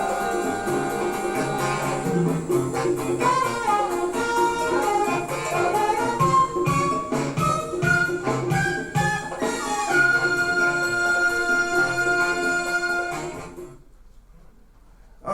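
Music recording made in London in 1988, playing steadily at moderate volume with layered melodic tones, then fading out near the end.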